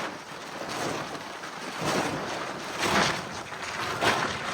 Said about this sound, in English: Some wind ripping across that lock.